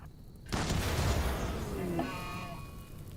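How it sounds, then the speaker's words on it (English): A sudden loud explosion in RimWorld bursts in after a brief quiet moment, then a rumbling, crackling tail fades over a few seconds, with a voice heard faintly beneath. "What the fuck was that explosion?"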